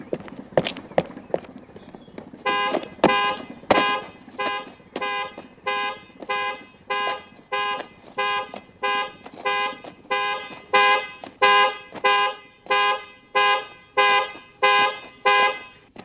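A building facade alarm rings in regular electronic bursts, a loud pulsing tone repeating about once a second after a few sharp knocks at the start, with no voices.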